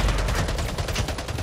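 Rapid automatic gunfire in the video game Splitgate, a loud, steady stream of closely spaced shots, with no talk.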